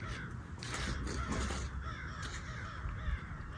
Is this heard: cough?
no